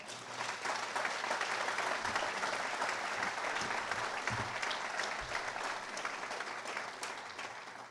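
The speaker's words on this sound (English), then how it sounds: "Now you can applaud." Applause from the audience at a lecture in Central New York, a steady uniform wash of many hands clapping, moderately distant and fairly quiet, sustained for about eight seconds with only a few faint low thumps.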